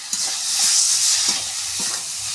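Chilli and cumin paste fries in a pan for a rohu fish and potato curry, a bright hissing sizzle broken by a few soft scraping stirs, close and steady, with no talk.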